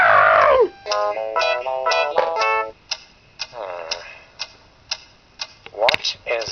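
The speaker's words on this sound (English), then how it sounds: "What is that mysterious ticking noise?" Sharp rhythmic ticking clicks repeat at a steady pace, close and distinct, standing in for the ticking of a bomb, while voices speak and sing over and between the ticks.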